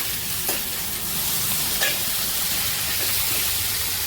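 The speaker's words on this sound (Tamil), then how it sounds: "இப்போது கட் பண்ணி வச்ச தக்காளி போட்டுடலாம். வதக்கிக்கலாம்." Chopped tomatoes and large green chillies sauté in a hot pan for a soya chunks biryani base, a steady sizzle running throughout with a few soft stirring scrapes near the start and middle.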